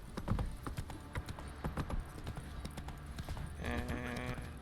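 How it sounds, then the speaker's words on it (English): Horse hooves gallop in The Witcher 3: Wild Hunt, a fast, steady clip-clop of hoofbeats close up over game ambience, with a short whinny near the end. "And Geralt is like, let's go, he's in a hurry here. Giddy up"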